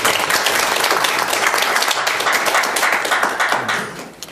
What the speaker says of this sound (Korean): 우리 정발위 위원들께는 좀 격려의 박수 한번 좀 부탁드렸으면 좋겠습니다